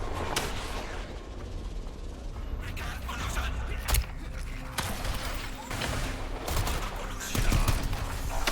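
Dense, continuous video game gunfire in Strider, rapid shots and blasts layered over busy game sound effects, with occasional louder bursts and a voice talking.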